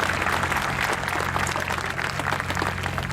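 A large crowd at the Special Olympics New York opening ceremonies gives a steady, dense round of applause, continuous clapping that fills the whole stretch with no pauses.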